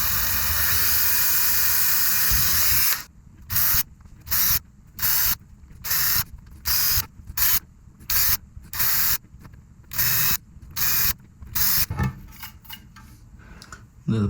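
A small 1.5 mm drill bit boring pilot holes in a box for an air quality monitor: a steady high whine, then about eleven short, evenly spaced bursts of drilling separated by brief pauses, close and loud.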